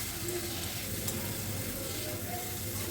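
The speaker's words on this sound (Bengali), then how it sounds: "করলা আলুটাকে মশলার সাথে কিছুক্ষণ কষিয়ে নেব" Bitter gourd and potato pieces sautéing with spices and salt in a pan over medium heat, giving a dense, even sizzle that holds steady and close throughout, with no voices.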